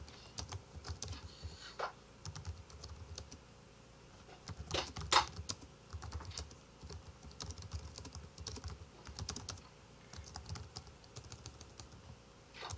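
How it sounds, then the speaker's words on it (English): Typing on a computer keyboard during a live stream, soft irregular clicking keystrokes in quick bursts with a few louder clacks, faint and close against a low background hum. "I was in the middle of typing something."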